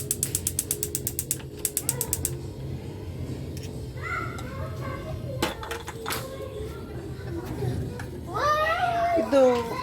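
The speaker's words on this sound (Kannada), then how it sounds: "ಸೊ ಈಗ ಗ್ಯಾಸ್ ಸ್ಟವ್ ಆನ್ ಮಾಡೋಣ." A household gas stove being switched on and lit to boil water with tea powder and sugar for masala chai, giving a quick burst of rapid ratcheting igniter clicks, then kitchen clatter and background voices.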